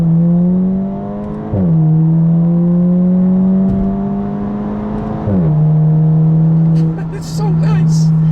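A 2017 Audi A4 Quattro S Line accelerates hard from a stop, its engine droning loudly as revs climb steadily, with two distinct drops in pitch as the driver shifts gears manually, then a brief rustle at the end.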